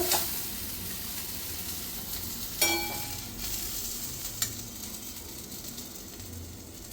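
Steady sizzling of okra frying in hot oil, a constant crackle with a few sharper clinks of a utensil against the pan.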